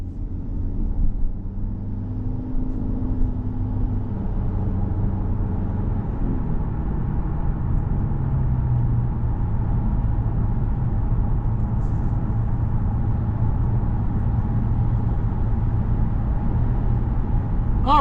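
A 2026 Toyota Camry Nightshade hybrid sedan drives along the road, giving a steady low cabin rumble of tires and road noise with a faint engine hum that holds constant throughout.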